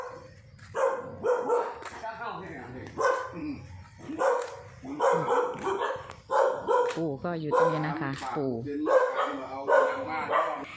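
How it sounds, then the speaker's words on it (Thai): A dog barks repeatedly at a visitor arriving with charcoal, sharp yips and barks in irregular bursts mixed with whimpers, close by, while someone talks over it. "ไปเห่าเขาทำไมลูก"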